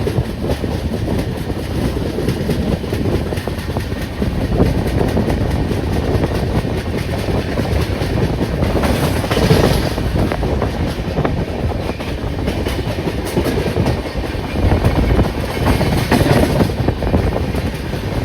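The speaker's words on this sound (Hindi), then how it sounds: "ये भाई स्टेशन से निकलते ही रफ्तार पकड़ के" Humsafar Express passenger train on the KSR Bengaluru–Nanded route, heard from inside a 3AC coach as it runs at speed on the main line, giving a continuous, loud rumble with rhythmic rail clatter and no pauses.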